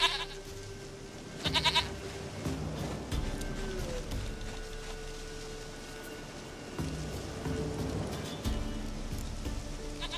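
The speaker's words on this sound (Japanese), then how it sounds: "ヤギ、愛しい、かわいい私のヤギ。" A goat bleats in The Witcher 3: Wild Hunt on PS4. Short bleating bursts come twice over a steady bed of rain and ambient game sound.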